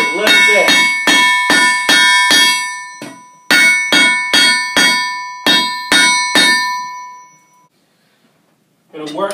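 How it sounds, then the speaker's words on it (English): A blacksmith hammers a hot steel taper on an anvil for a simple wall hook, loud ringing strikes in quick bursts of about fifteen blows with short pauses, the last blow fading into quiet. "If there's a bulge and it doesn't taper down, just hammer it out just a little bit."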